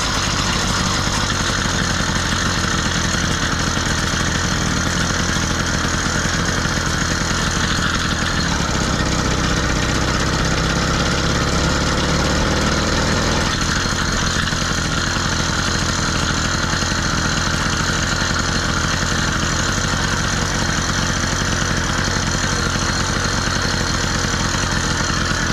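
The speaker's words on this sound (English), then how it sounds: "We just want to casually run, let our motor burn the excess oil out from the build" A motorized bicycle's small two-stroke engine runs steadily through a test ride while burning off excess oil, with a continuous buzzing drone whose low pitch shifts midway as the ride changes pace. No one talks.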